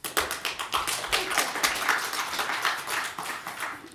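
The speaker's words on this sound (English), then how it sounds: "Thank you for the applause" Audience applause at an academic symposium on caring economies: a steady patter of many hands clapping, moderately close, with no voices over it.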